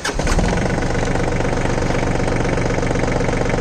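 The Yanmar diesel engine of a VST 932 30 HP 4WD mini tractor idles steadily and loudly up close, with a rapid, even chugging that holds constant throughout.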